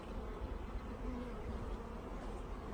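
Honey bees packed in a shipped bee package hum in a dense, continuous buzz, close and steady throughout with no voices.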